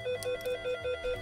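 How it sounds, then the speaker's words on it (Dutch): A telephone ringing in Minecraft, a quiet, rapid electronic trill repeating in short pulses with no voices. "Gaat de telefoon ook echt over?"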